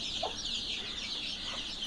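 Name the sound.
village hens clucking with their chicks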